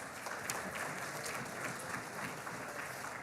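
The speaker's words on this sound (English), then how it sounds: "give them a round of applause" At an awards ceremony, an audience in a hall gives steady, dense applause that stays faint and distant with an even level.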